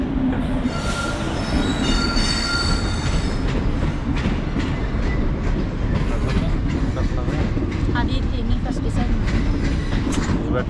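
A train rolls continuously past a railway level crossing on the road from Mathura to Vrindavan, loud and close, with rumbling wheels, clickety-clack and squealing metal, while people talk nearby.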